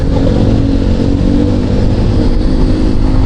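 Motorcycles and scooters streaming past on a busy road, a steady loud engine drone and traffic rumble filling the whole stretch without a break.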